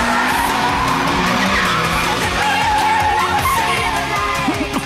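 Car tires squeal and skid through a downhill mountain race in the Initial D anime, a loud, continuous screech over engine roar that persists throughout without pause.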